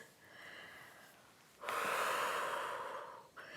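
Slow, steady breathing during a gentle Pilates exercise at home: a soft inhale, then a louder, longer breathy exhale lasting over a second, heard close and alone with no talking.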